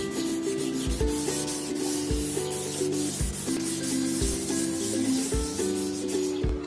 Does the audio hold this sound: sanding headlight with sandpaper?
yes